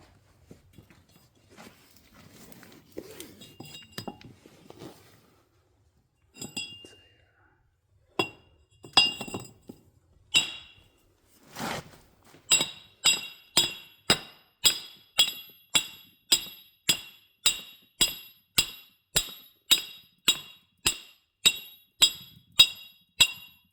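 A pipe hammered against a rockshaft oil seal on a John Deere 4020 Hi-Crop tractor, starting with scattered knocks and handling noises, then settling into a steady series of about twenty sharp metallic clinking blows, close and clear.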